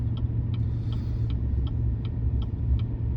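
Four-wheel-drive truck in second gear towing a 14,000 lb house down a snow-covered 17% grade at about 16 mph in a Colorado blizzard: steady low engine and road rumble with faint regular ticking, continuous and close.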